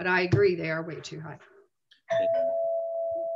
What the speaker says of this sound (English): Oh, sorry, that's my doorbell.